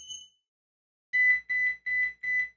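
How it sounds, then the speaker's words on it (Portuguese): The Focus To-Do app plays an alert tone: a short chime, then after a pause four evenly spaced electronic beeps in a quick pattern, clean and without talk. "Aí tem vários sons de alertas aqui que você pode colocar"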